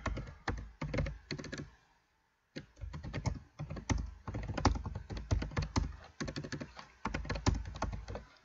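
Rapid typing on a computer keyboard, a dense run of close, crisp key clicks with one brief pause near the start, steady and uninterrupted by any voice.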